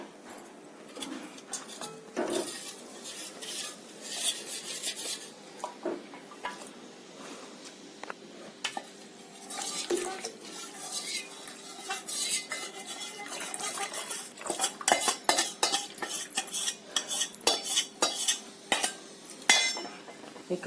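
A utensil clinks and scrapes against a metal pan in irregular bursts while stirring a cornflour-and-water mixture into sugar syrup for Bombay halwa, close up, with no voices.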